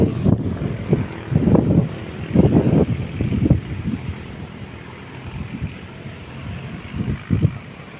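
Wind gusting at a scenic outdoor spot, with low rumbling buffets against the microphone that swell and fade in irregular bursts over steady background noise.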